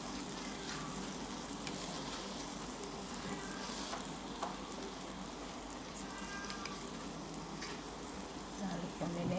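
Banana bread slices (roti pisang) sizzle and fry steadily in a pan while being pressed down, a continuous close crackling hiss with faint scraping throughout.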